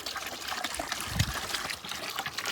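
Water poured out for a buffalo to drink in a village farmyard, a close continuous trickling and splashing stream with a brief gush in the middle.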